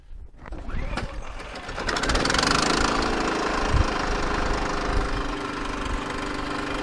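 A Firman W3200i inverter generator is pull-started in the cold, catching on one pull and settling into a steady, moderately loud engine hum with a faint mechanical rattle, heard close by.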